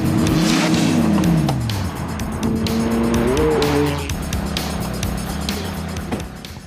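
A Ferrari sports car drives hard and accelerates, its engine note climbing and shifting through rising sweeps, with tire squeal and a loud, close, continuous roar.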